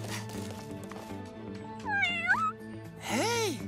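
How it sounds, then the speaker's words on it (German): A kitten meows twice in short rising-falling cries, close and clear over cartoon background music. "Hey, sieht aus wie eins von Bürgermeister Besserwissers Kätzchen."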